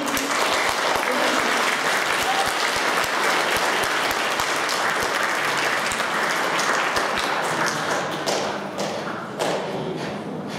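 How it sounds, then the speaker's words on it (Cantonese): A large audience claps loudly and continuously at the start of a stage singing-drama show. Sharp individual claps stand out within the dense applause, which thins slightly toward the end. "請大家以熱烈嘅掌聲"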